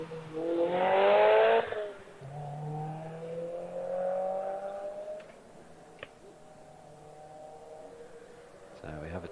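A Mazda MX-5 revs and accelerates on the Wiscombe Park hillclimb course, a loud rising engine note through gear changes that then fades into the distance, with a commentator talking over it.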